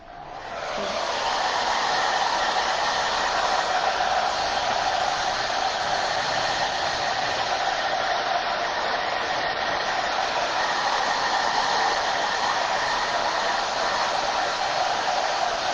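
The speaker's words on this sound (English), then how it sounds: "Now this front isn't dry, so I'm going to hit it with a hairdryer." A handheld hairdryer blows on a craft placemat turkey to dry its front, giving a loud, steady whooshing roar that starts after a second and runs unbroken to the end.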